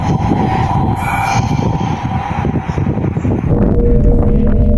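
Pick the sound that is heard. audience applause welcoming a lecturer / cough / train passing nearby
train passing nearby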